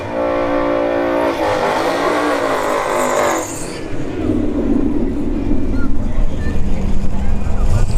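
Nitrous Fox body Mustang drag racing at a dragstrip, a loud high-revving engine roar that cuts off abruptly partway through, then gives way to a lower rumble and crowd noise.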